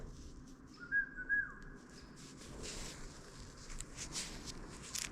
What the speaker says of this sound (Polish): Chyba ktoś gwizda.